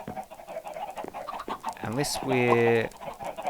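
Chickens on a Minecraft chicken shooting range cluck loudly for a moment, one prominent squawking cluck standing out while someone talks over the game sounds.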